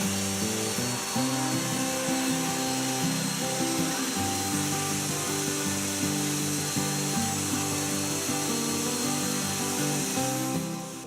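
Table saw ripping thin strips from 1x8 PVC board, a loud, close, continuous whine with a steady tone throughout that fades slightly at the end.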